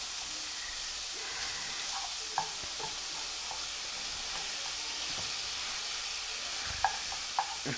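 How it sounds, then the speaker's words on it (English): Hamburger frying in a pan that has been heating for several minutes, with a steady, fairly quiet sizzling hiss and a few faint pops and clicks scattered throughout. "I think I've had this pan going for about 5-10 minutes."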